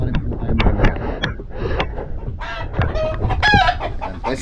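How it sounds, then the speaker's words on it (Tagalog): Chickens cluck and a rooster crows close by, a busy overlapping stream of calls and squawks filling the whole stretch, with faint background voices mixed in. "Pasensya na po sa mga manok muna."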